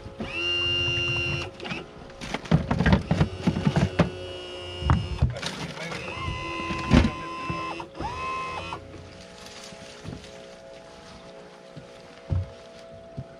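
A bilge pump runs aboard a boat, drawing out water with a steady mechanical whir and hum, accompanied by clunks and handling noises close by.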